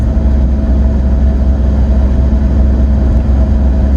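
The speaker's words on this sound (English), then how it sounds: "You can hear the engine, but it's still extremely quiet in here, honestly." A Karma Revero GT hybrid accelerates in sport mode, its engine a steady low hum heard from a quiet cabin, with no distinct rise in pitch.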